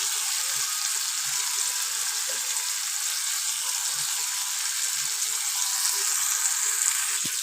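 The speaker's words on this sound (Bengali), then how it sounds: "কাঁচা লঙ্কাটা দিয়ে খুব ভালোভাবে ভেজে নেবে" Chopped green chillies fry with soft, mashed tomatoes in a pan, producing a loud, constant bright hiss of sizzling with a few faint low knocks underneath and no voices.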